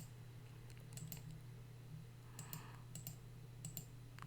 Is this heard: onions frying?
no